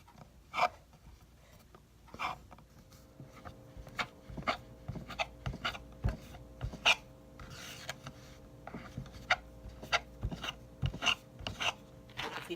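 A knife cuts through chin chin dough, giving soft, irregular taps and scrapes against the board, quiet and close, with pauses between the strokes.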